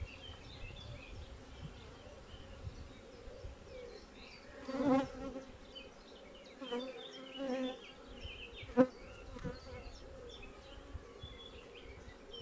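Honeybees at an opened beehive, a colony that has brought in lots of pollen, keep up a steady close drone, with individual bees buzzing louder as they pass near.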